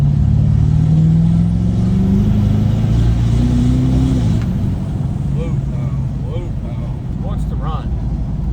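A Ford 6.7 Powerstroke diesel truck with a big turbo and straight-pipe exhaust revs loudly, its tone rising and holding, then settles to a rough idle while people talk.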